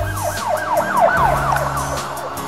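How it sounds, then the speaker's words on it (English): A cartoon police car siren wails in quick rising and falling sweeps, loud and close, over a low engine rumble, with no voices. "Police car."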